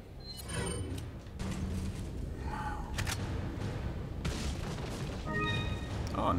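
Heavy Magnum revolver shots ring out in the survival horror game Resident Evil 4. Several loud, sharp blasts are spread across the stretch over a dense backdrop of game noise and mechanical clatter.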